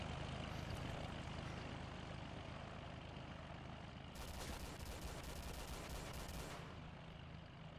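Video game gunfire, a continuous dense rattle of shots that swells sharply loud for a few seconds midway, heard alone without talk.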